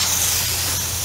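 Aerosol spray paint hissing steadily as red paint is applied to the wheels of a Warhammer 40k Blood Angels Predator model tank, a close, continuous spray lasting the whole moment.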